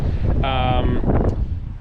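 Wind gusts buffet the microphone beside a pink lake near Esperance, a steady low rumble throughout with a brief tonal voice-like sound partway through.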